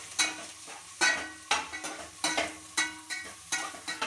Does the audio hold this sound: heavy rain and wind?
no